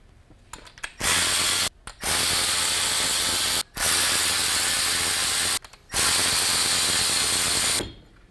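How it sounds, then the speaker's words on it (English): Polaris RZR Turbo-S rear shock being removed with a ratchet: several long, loud bursts of rapid ratcheting clicks separated by short pauses, close by with no talk. "Remove the shock and put it in the vise."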